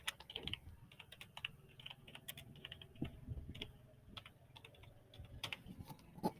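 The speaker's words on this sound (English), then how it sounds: "So for the content 2, just type the description" Steady typing on a computer keyboard while setting up a lesson activity, with quick irregular key clicks and occasional louder strokes, fairly faint and close, with no talking.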